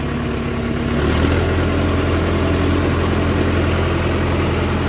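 Indo Farm 3065 DI 65 HP tractor engine runs steadily at close range, a loud continuous diesel drone with a low throbbing hum that rises slightly in revs after the first second.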